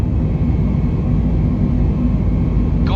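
An Airbus A320neo jet airliner takes off and climbs out from San Francisco, heard as a steady, loud broadband engine roar and rumble with no pauses.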